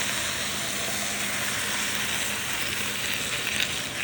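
Broth poured into a hot pan of bistek tagalog, a steady frying sizzle and hiss that runs unbroken and fairly quiet, with no voices over it.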